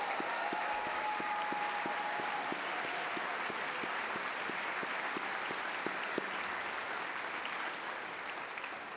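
An audience applauds Millikin University graduates at a spring afternoon commencement ceremony, steady broad clapping with a few distinct near claps standing out, filling the hall and tapering slightly toward the end.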